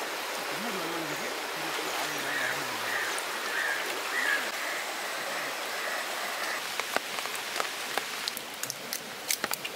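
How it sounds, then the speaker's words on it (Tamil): Steady rain falls in a Kerala village, a continuous broadband hiss of drops on surfaces and running water, with scattered sharper drips toward the end and faint voices in the background. "மழை வந்துட்டு இருக்கு."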